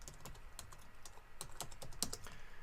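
Rapid, uneven keystrokes on a computer keyboard, close and fairly quiet, clicking in short bursts with brief pauses, no voices.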